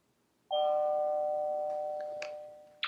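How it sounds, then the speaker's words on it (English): Beltronics GT-7 radar detector sounding its K-band alert, a sustained bright doorbell-like electronic chime with stacked tones that rings out and slowly fades, followed by a couple of faint clicks and a short burst of static near the end. "K-band, we've got our kind of doorbell chime."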